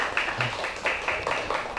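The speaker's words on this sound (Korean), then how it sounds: "저두 분에게 박수 한번 쳐드리죠" Audience at a Korean lecture on the Manhattan Project clapping for two attendees: steady, moderately loud applause from a seated crowd, a dense patter of many hands that continues evenly throughout.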